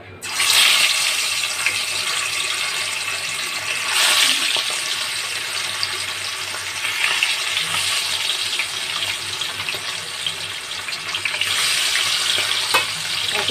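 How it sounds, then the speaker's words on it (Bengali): Fish sliding into hot oil in a wok, a loud, close, continuous sizzle with bursts that swell as each piece goes in, and no one speaking. "তেলটা আমার গরম হয়ে গেছে, এবার এক এক করে আমি মাছগুলোকে ভেজে নেব।"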